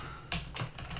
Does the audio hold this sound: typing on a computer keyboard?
yes